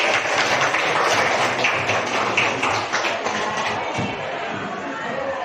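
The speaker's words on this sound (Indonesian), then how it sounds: "beri tepuk tangan kepada Renaldan" Steady broadband clapping from a classroom of students applauding a classmate, dense and sustained throughout, with faint voices mixed in.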